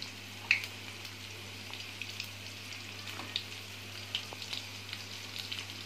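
Plain anchovies fry in hot oil with a soft, steady sizzle and scattered small pops and crackles under a constant low hum. No one speaks.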